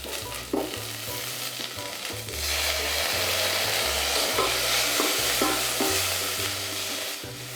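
Onions and shallots frying in a pan for Hakka poon choi, a steady loud sizzle with repeated stirring scrapes and clatter throughout, no talking.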